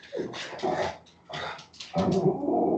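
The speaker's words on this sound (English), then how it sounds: "my dog's growling in the background for some reason" A dog growls and whimpers in the background of an indoor room during a Star Wars game session, coming in several low, rumbling bursts with brief pauses between them.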